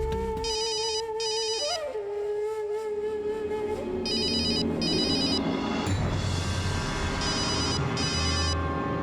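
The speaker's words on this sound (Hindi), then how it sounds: "मन्ना भाभी का फोन है।" A phone ringtone plays in repeated bright electronic bursts over a background music bed, several rings with short pauses between them.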